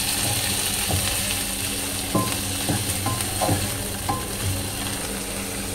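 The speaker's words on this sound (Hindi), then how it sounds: "इसमें डाल देंगे पनीर की स्लाइस, इनको भी अच्छे से मिक्स कर लेंगे।" Paneer slices frying in a pan, giving a steady close sizzle with several sharp clicks and scrapes as they are mixed.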